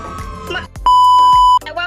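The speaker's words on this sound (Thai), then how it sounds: "เมื่อกี้ตำรวจหัวไซเรนกระโดดมาเลยอ่ะ" Police siren-head character's siren in a Roblox obby game: a sharp, loud electronic tone holding steady for under a second, surrounded by clattering game sounds and brief bursts of noise.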